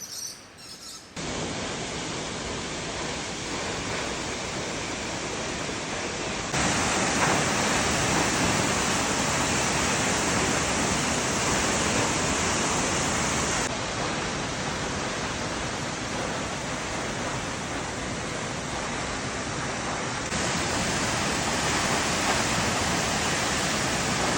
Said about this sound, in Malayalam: എല്ലൻബറ ഫോൾസിലും പോവാം നമുക്ക് വെള്ളച്ചാട്ടത്തിന് താഴെ വരെ പോവാം